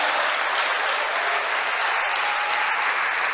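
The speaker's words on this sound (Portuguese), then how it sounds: "Dê um aplauso poderoso a esse Deus fiel, santo, justo." A church congregation breaks into sustained, dense applause that fills the whole stretch at steady loudness, with no voices rising above it.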